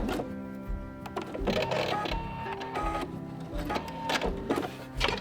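A computerized Pfaff sewing machine sews a large serpentine stitch while feeding the fabric sideways, producing a close, busy mechanical whirring and clatter with rapid, irregular stepping ticks.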